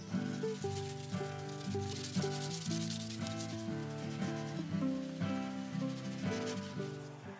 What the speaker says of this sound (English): Sandpaper time. I've got 150 grit.